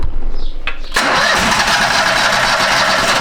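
A Steiner 440 tractor engine cranks briefly with a couple of sharp catches, then fires and settles into a steady, loud, close running drone.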